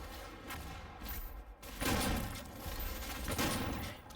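The super shotgun fires in the Doom beta, its heavy blasts landing at irregular intervals with loud, booming, broadband bursts close up among the game's background noise.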